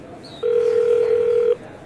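A single steady telephone ringback tone sounds for about a second, clear and close over faint room hiss, then stops.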